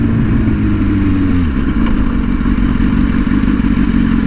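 A BMW S1000RR sport motorcycle revs hard in first gear for a launch on a slightly downhill road. The engine note climbs loudly, drops briefly at a shift, then pulls on with a raw roar close by.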